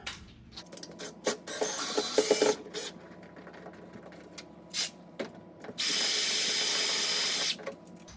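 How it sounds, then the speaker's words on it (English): A power drill whirs in short bursts, then runs in one steady sustained whine as it bores a wider hole while installing a MAAX Cyrene corner shower kit, with clicks and handling noises between. "gotta drill a bigger, wider diameter hole to make this work"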